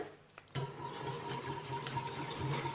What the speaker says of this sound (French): je mélange ma levure à mon lait tiède